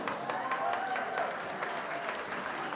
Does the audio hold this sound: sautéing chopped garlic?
no